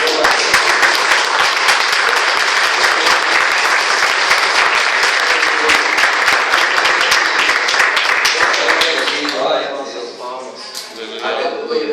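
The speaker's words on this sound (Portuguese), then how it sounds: "Dá uma salva de palmas ao Senhor" A church congregation gives a sustained round of loud, dense applause that carries on for several seconds before tapering off, with voices coming through as it fades.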